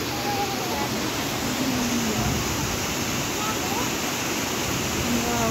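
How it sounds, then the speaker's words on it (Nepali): A stream near Darjeeling rushes in a loud, continuous, broadband roar heard close, with faint voices under the water noise. "पानी बगेको ठाउँ हो होइन।"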